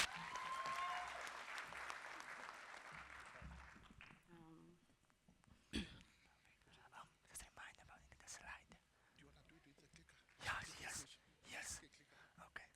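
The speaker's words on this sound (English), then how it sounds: "Let's give Thandeka a warm round of applause." Audience applause at a conference opening plenary, a dense wash of clapping for the first four seconds that fades out, followed by scattered voices and quiet stage talk.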